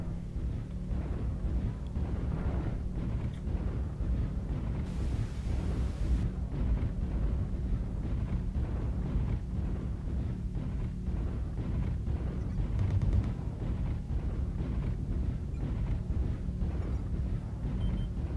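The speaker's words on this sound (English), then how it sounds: "see some autocannon shells coming in with my range" Incoming autocannon shells bursting around a mech in MechWarrior Online, a steady stream of rapid thumping impacts and rumbling explosions under continuous engine drone for nearly twenty seconds.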